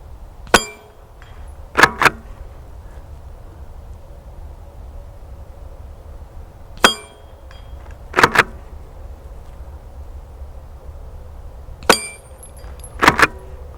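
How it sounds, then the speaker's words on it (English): A .22 Blaser R8 Ultimate rifle fires at a swinging steel plate on a 100 metre range, three sharp shots each followed by a distant metallic ring of the hit, separated by long quiet gaps. "I'm timing the shot so it goes when the plate's swung away"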